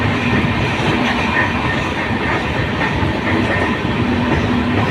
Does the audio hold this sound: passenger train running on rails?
yes